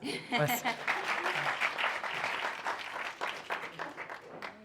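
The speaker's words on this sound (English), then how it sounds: "A round of applause." Panel audience applause, a steady burst of clapping from a room of listeners, moderately loud and lasting a few seconds, with a voice briefly heard over it.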